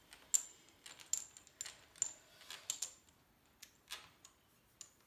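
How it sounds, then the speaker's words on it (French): Dominoes turned over on a table one after another, a run of sharp light clicks and clacks in an uneven rhythm, close and clear with no talking. "On peut retourner ces dominos."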